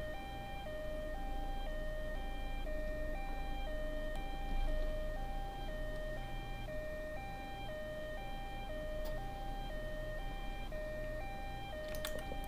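An ambulance siren from the Minetest vehicles mod in a video game wails on and on in a steady two-tone, high-low alternating pattern, loud and unbroken, with faint clicks near the end.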